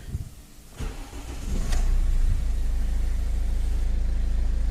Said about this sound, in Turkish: Debriyaj nötr konumunda marş yapıyoruz.